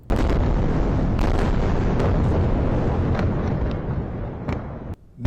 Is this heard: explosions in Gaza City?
yes